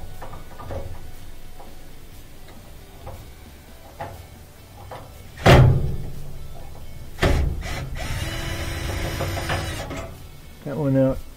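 A ratchet removing a screw on an LG gas dryer, with rapid clicking pawl bursts and scraping mechanical handling sounds, a few louder knocks and clunks at close range.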